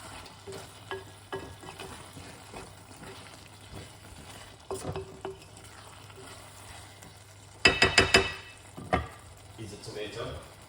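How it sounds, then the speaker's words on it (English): A sweet potato stew in a pot is stirred, giving soft scraping and gentle bubbling under a low steady hum, with a burst of louder clattering knocks near the end and some speech around it. "Give it a little bit of a stir."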